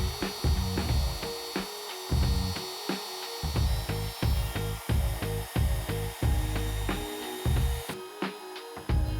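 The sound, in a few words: wood router with straight bit cutting inlay pocket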